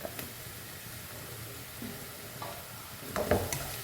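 Onion, ginger, garlic and curry leaves sautéing in oil for chicken thoran, a soft steady sizzle with occasional spoon scrapes and a louder stir near the end, no talk.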